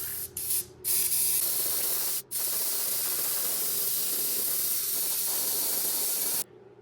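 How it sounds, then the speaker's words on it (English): An airbrush sprays white base coat paint onto a crankbait lure, a steady close airy hiss broken by a few brief pauses in the first seconds, then running continuously before cutting off near the end. "Got white in the airbrush first, making a base coat."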